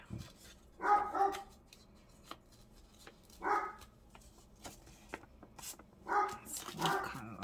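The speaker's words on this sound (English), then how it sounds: "I knew he was going to start barking." Dog barks in three short bursts spread across the span, moderately loud over a quiet room with faint paper rustling and shuffling between them.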